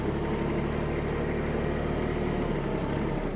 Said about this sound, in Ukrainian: Спробуємо, як поводить себе трактор на задньому приводі